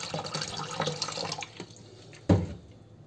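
Tap water running into a container for a vinegar cleaning solution, a close splashing pour that thins out, ending with a single louder clunk or splash near the end.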